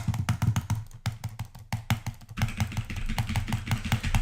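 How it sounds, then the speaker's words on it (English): A PC gamer mashes a computer mouse and keyboard during Sekiro play, producing a fast, uneven run of loud, close plastic key clatters and clicks, with one brief gap before it gets denser. "Mash your mouse and keyboard."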